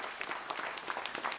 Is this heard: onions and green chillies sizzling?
no